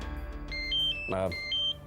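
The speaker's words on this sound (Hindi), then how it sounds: "माय गॉड, वीरेन का फोन है।" A mobile phone rings in a Hindi TV drama, playing a melodic pattern of bright electronic tones over a sustained tonal background.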